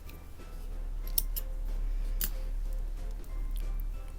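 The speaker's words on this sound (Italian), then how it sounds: "Terminato l'ultimo archetto, possiamo tagliare il filo" Scissors snip the yarn at the end of a crocheted baby blanket, a couple of crisp close cuts over quiet room tone with no talking.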